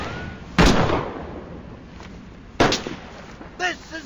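Airstrike explosions in a combat video game, two sharp loud blasts about two seconds apart with rumbling decay, followed by a smaller burst, amid game noise.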